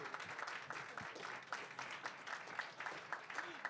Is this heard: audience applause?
yes